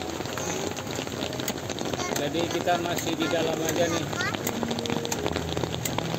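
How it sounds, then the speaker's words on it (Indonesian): Rain drums steadily on the roof of a Ford Everest campervan parked at night on Tanjung Setia beach in Krui, Lampung, a dense pattering under a person talking quietly inside. "Dari habis maghrib tadi hujan terus."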